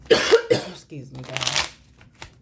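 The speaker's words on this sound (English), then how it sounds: "So I'm gonna grab my cards really quickly." Playing cards for Texas Hold'em are picked up and shuffled in a few quick riffling bursts close by, broken by a throat clear and a short murmur of voice.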